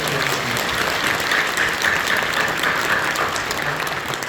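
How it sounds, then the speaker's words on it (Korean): Church congregation applauding to welcome visiting guests, a steady, dense wash of clapping from a large crowd that holds evenly throughout. "박수로 환영하시고 선물해주시고"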